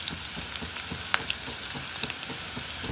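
Onions and green chillies with whole garam masala frying in a hot pan for a vegetable biryani, a steady close crackling sizzle with scattered sharp pops throughout, no voices.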